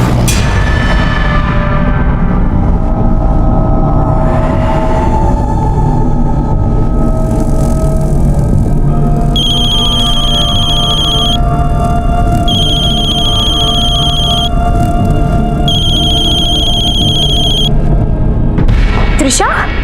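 A phone ringing unanswered during a call to a girl from home gives three evenly spaced ringing bursts, each about two seconds long, over a dense, busy background with voices talking.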